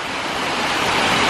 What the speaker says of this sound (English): Look at that rain, will ya?